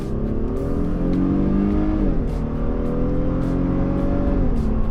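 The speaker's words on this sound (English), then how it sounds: "very first thing I noticed when I hit the gas hard in the Honda Pilot was this engine sounds great" A 2025 Honda Pilot TrailSport's 3.5-liter V6 revs hard under acceleration, its deep rising drone dipping briefly before climbing again, loud and steady throughout with no talking.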